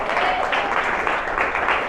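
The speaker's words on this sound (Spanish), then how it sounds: "Dar un aplauso al Señor." A church congregation applauding, dense steady clapping throughout the short stretch, fairly loud and close, with some voices mixed in.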